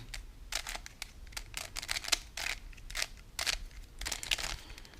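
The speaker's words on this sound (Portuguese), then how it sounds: "Então agora eu vou embaralhar o Constrained Cube" Constrained Cube puzzle being scrambled by hand, a close series of quick plastic clicks and snaps as the layers turn, some turns catching and jamming, in uneven bursts with no talk.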